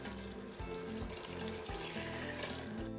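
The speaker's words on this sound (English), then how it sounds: "We're going to add water." Water pours steadily from a tap into a cooking pot, a continuous close splashing rush with no talk over it.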